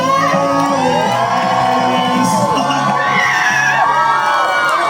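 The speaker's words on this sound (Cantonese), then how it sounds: "俾掌聲佢" Crowd cheering, whooping and shouting, children's voices mixed in, at a Halloween-style skeleton band show at a theme park festival, loud and continuous throughout.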